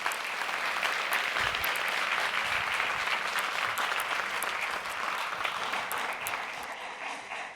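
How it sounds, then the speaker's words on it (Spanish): A lecture audience at a science event gives loud, sustained applause welcoming a speaker, dense clapping filling the whole stretch and easing slightly toward the end. "vamos a recibir con un aplauso fortísimo"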